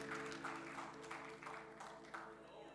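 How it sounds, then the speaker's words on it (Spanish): A church congregation at a Spanish-language service applauding, heard as a faint, steady wash of clapping over a low humming background. "Dele fuerte el aplauso a Dios."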